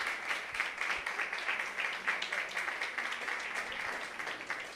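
A congregation in church gives sustained applause for the men present, a dense, steady roar of many hands clapping at once with faint voices mixed underneath.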